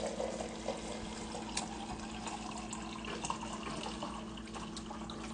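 Water being poured into a cup, a steady close splashing and trickling stream that runs the whole time over a faint background hum, with no talking.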